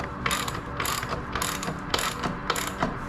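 A wrench torques the rear axle of a Husqvarna Svartpilen motorcycle, giving a series of sharp ratcheting clicks in short bursts, close and distinct with no talking.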